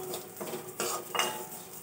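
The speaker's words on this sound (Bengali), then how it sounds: "তো কিছুক্ষণ এভাবে নাড়াচাড়া করে লাল লাল করে ডাল ভেজে নেব" Dry moong dal, about 200 grams, scraped and stirred with a utensil in a pan over low heat, giving a few brief clattering scrapes and rattles of lentils against metal, close and fairly quiet, with no talking.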